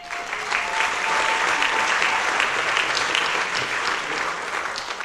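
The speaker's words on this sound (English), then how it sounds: "we really want to hold a special thanks and applause" A crowd at a Celebrate Morgan Hill 2012 community event gives volunteers a warm round of applause, steady and full-bodied from start to finish without any speech.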